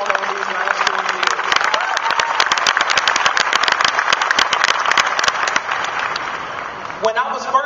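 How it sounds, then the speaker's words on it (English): A large audience applauds at an LSU College of Engineering commencement ceremony, loud, dense clapping that runs without a break before a speaker's voice begins at the very end. "give all of us a round of applause"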